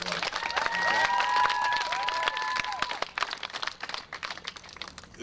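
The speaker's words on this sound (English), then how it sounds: "Give yourself a round of applause." An audience at an Invisible Children event in Albany, NY gives a round of applause, dense clapping that swells then thins out over several seconds, with some whistling tones.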